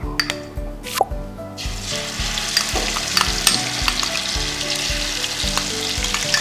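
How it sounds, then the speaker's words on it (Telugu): Ginger garlic paste fries loudly in oil in a pan for curry leaf chicken, a dense crackling sizzle with a low rhythmic thumping underneath and a few clinks at the start. "సో ఇది కూడా పచ్చి వాసన పోయే వరకు ఫ్రై చేసుకోవాలి"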